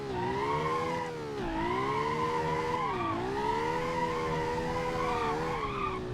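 A Supra-like sports car with no radiator in BeamNG Drive, engine droning steadily with wavering pitch as it revs and eases, tires squealing, close and continuous with no voices.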